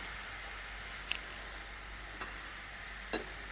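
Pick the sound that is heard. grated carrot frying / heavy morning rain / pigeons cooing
grated carrot frying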